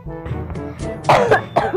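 A person coughs a few times up close, short rough bursts after some throat noise, loud and abrupt.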